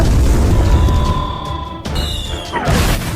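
Loud, dense rumbling blasts and booming over continuous noisy action, with a sharp burst midway and higher whining tones, like game explosions from monsters shooting at dinosaurs.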